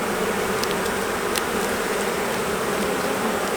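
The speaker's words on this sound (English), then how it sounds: "this frame has got lots of bees on it" A dense, steady drone of many honey bees crowding a hive frame during an early-season inspection, close and continuous with no voices.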